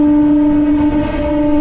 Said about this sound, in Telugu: థర్మల్ పవర్ స్టేషన్ వాటికి కోల్ తీసుకెళ్తా ఉంటుంది ఈ ట్రైన్